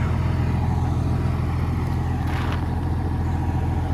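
An International 856 tractor engine runs at a steady, loud, even rumble close by, with no talk over it.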